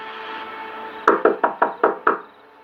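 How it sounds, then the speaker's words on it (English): Six hard, evenly spaced knocks on a door, loud and close, after a low steady hum. "There was no doorbell, so I just knocked really hard."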